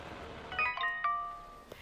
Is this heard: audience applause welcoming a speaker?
no